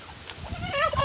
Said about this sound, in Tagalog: Yan ang aking mga alagang manok.